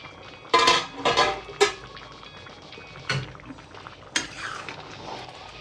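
Ofe Achara egusi soup pot being covered, with several clattering metal clanks of a lid and pot at close range, a cluster of knocks early followed by two more isolated clinks.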